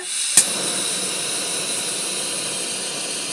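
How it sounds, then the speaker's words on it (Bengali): A gas stove burner catches with one sharp click and pop near the start, then a steady, fairly loud hiss of the flame carries on alone, heard while milk is being readied for carrot laddu. "গ্যাসটাকে ধরাচ্ছি"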